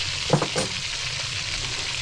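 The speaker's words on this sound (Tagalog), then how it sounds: "Yan, kumukulo yung mga mantika." A big crab fries in boiling cooking oil with a steady, dense sizzle and a few brief louder spits near the start. The sound is close and continuous, and nobody speaks.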